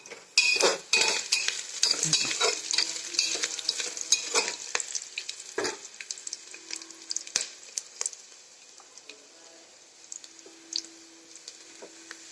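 Onion sautéing in a pan, a close crackling sizzle with repeated spatula scrapes and clatters that are busy at first, then thin out into a quieter hiss with occasional stirs.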